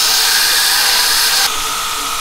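A grinder works steadily on welded metal mount tabs for a rat rod tow truck, giving a loud, continuous close-up whine and hiss that drops slightly in level partway through.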